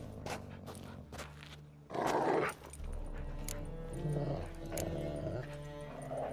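Dogs growling and snarling in The Witcher 3 video game, low rumbling growls rising into a louder burst near the middle, then softer intermittent snarls over a quiet game backdrop.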